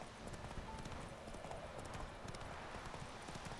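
Hooves of the horse Roach in The Witcher 3 clip-clop at a steady trot, faint but continuous, over quiet game ambience.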